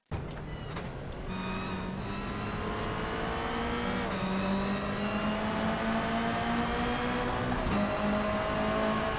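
A Toyota GR86 race car engine in iRacing at Tsukuba Circuit, heard from the in-car view: a loud, steady, buzzing drone whose pitch climbs through the gears, with a couple of quick shifts.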